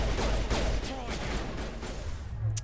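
Dense sustained gunfire in the sci-fi shooter Mass Effect, weapons hammering at walls in a steady loud barrage with game sounds mixed in.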